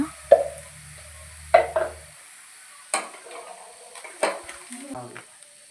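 Bread frying in a pan with salt, with a few soft sizzling bursts and stirring scrapes spaced a second or so apart, fairly close and quiet, a low hum fading early.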